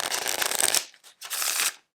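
A deck of United States Playing Card Company cardistry cards is shuffled in two quick riffling bursts separated by a brief pause, crisp and close with no talking.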